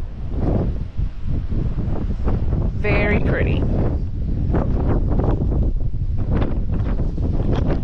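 Strong wind buffeting the microphone outdoors on a beach during crab fishing after a hurricane, a constant low rumbling roar with gusty surges, with a brief voice speaking over it.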